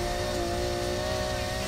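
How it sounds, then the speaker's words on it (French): A car engine revs in the Need for Speed Heat video game, a steady, loud, buzzing drone with a sustained tonal whine and no clear speech over it. "Ça c'est un son de bagnole."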